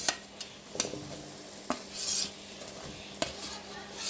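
Potatoes being stir-fried in spice masala for a village-style soybean curry, with a utensil scraping and knocking against the pan in scattered clinks over a low background sizzle, plus a brief burst of hissing midway.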